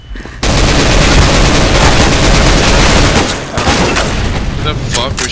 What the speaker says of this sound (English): Who the fuck was shooting me?